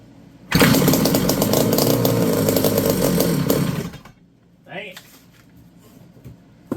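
Small engine fitted with a 3D-printed intake runs loud and steady for about three and a half seconds, then cuts off abruptly, followed by a brief voice and quiet handling noises.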